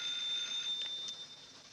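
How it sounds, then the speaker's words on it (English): Old telephone bell ringing in a 1944 house at night, a short faint trill of the ring heard alone, fading toward the end. "Let it ring."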